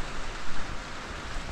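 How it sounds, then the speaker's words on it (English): Rain beginning to fall around a trail shelter on the Appalachian Trail in Maine, a soft, steady patter of drops close by with no voices. "Just got our stuff inside the shelter and it started raining."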